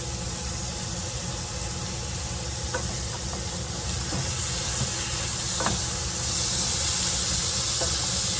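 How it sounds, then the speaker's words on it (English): Garlic starting to cook in a pan alongside softened vegetables, giving a steady, even sizzle and hiss throughout, moderately close, with a few faint clicks and taps of a utensil scattered over it. "We're going to throw in a heap of garlic. Go ahead and let that cook just a bit."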